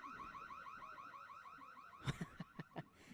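Electronic car-alarm style siren played over the public address system at a high school baseball game, a warbling repeating tone followed by a run of five sharp rhythmic whoops, loud and clear with faint crowd ambience beneath.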